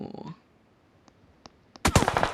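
Video game gunfire sounds as a few sharp, isolated shots, then a dense burst of rapid fire at the end, with a brief voice at the start.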